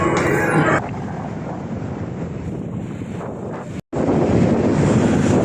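Strong wind in Tagaytay City buffets the microphone with a steady roaring rumble, briefly cutting out before the blustery noise returns just as loud.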